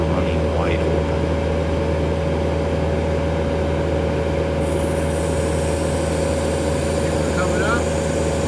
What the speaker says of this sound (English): This is a motor running wide open.